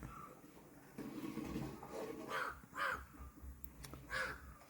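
In a village setting, a crow caws several times, harsh repeated calls at moderate distance that rise out of quiet ambient background, with no talking.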